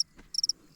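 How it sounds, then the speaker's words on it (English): A cricket on a summer day gives a quick, close burst of three or four shrill chirps in a brief, otherwise quiet moment. "Crickets."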